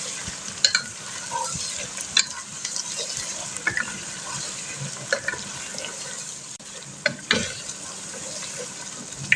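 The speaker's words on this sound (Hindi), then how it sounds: "तो अब हम इसमें डाल देते हैं अदरक लहसुन का पेस्ट। इसको अच्छी तरह मिक्स कर लेते हैं चिकन में।" Chicken frying in a pan as ginger garlic paste is stirred in, a constant hissing sizzle with sharp intermittent clacks from the spoon against the pan, heard close with no voices.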